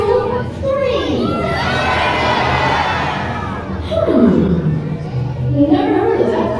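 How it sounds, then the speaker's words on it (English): An audience at the Weeki Wachee Springs mermaid show in Florida shouts out all at once, a loud jumble of adult and children's voices yelling over each other, rising and swelling for several seconds. "everyone yell out where you're from on the count of 3"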